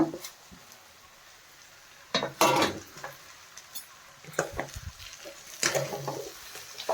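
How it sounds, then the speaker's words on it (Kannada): A bitter gourd fry with grated coconut and coriander is stirred in a pan, giving intermittent scraping and clinking of a spoon against metal in short bursts over a quiet background. "ಕೊತ್ತಂಬರಿ ಸೊಪ್ಪು ಹಾಕಿ ಒಮ್ಮೆ ಕಲಿಸ್ಕೊಳ್ಳೋಣ ಇದನ್ನು ಚೆನ್ನಾಗಿ ಮಿಕ್ಸ್ ಮಾಡ್ಕೊಳ್ಳೋಣ"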